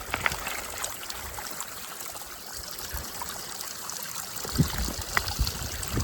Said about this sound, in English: So here you got this stream right behind me